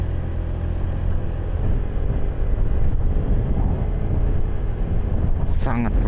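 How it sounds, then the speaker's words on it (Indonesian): Strong wind along a mountain road to Bromo rumbles heavily against the microphone in a steady low roar, with a brief voice rising over it at the end. "Anginnya cukup kencang."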